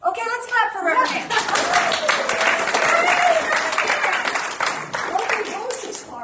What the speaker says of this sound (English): let's clap for Reverend Nan.